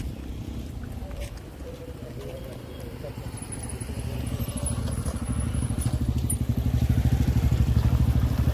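A motorcycle moves along a village lane at dusk, its low engine drone building and growing louder toward the end as it draws nearer, with rumbling road noise and faint talk in the background.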